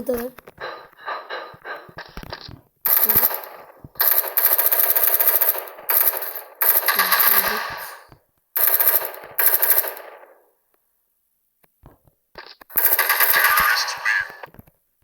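Automatic and single gunshots ring out in a special-operations shooter video game, coming in loud, close bursts with short gaps between them, while someone talks over parts of the firing.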